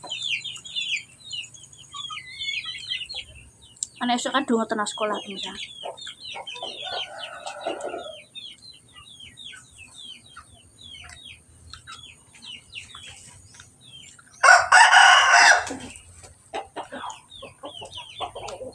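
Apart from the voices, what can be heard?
chickens clucking and rooster crowing in background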